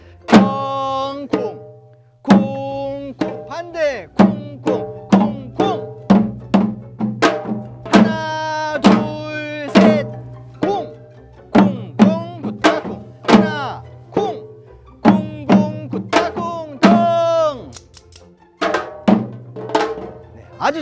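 A janggu, the Korean hourglass drum, played in the fast hwimori rhythm in a lesson setting: dense, rhythmic strikes of deep and sharp drum tones, close and loud, with a voice chanting the rhythm syllables along with the beats.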